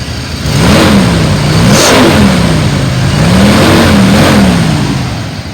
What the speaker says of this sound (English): I can rev this one up right here.